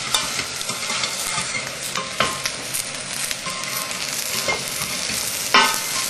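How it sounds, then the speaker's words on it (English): Carrots fry in melted butter, brown sugar and oil, giving a steady close sizzle with intermittent stirring scrapes and clatters, loud and continuous, with no talking. "See how the butter kind of just melts that brown sugar, and the oil has somewhat fried the carrots."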